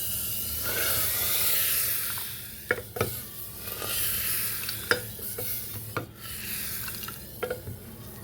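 Spice tempering for Sindhi dal is stirred in a hot pan, with a steady sizzle of oil under scattered sharp spoon scrapes and clinks, close and fairly loud.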